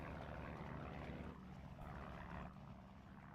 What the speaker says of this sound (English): And now we got planes incoming.